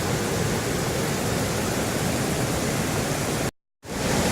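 Waterfalls rush between islands on the river at Don Det, Laos, a loud steady broadband roar of falling water that cuts out abruptly for a moment near the end before resuming.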